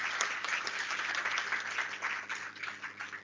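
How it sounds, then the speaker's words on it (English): Students and guests at a university student-chapter launch event in Jaipur applaud the visiting leaders and industry figures with continuous, moderately distant clapping from a hall full of people that ebbs slightly at the end. "Please give a big round of applause to all the leaders,"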